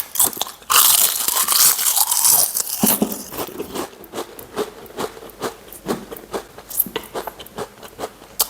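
Loud crisp crunches as a thin, super-light British crisp is bitten and chewed, sharp bursts of crackle followed by a steady series of smaller crunching chews close to the mouth.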